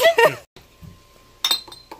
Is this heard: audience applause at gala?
no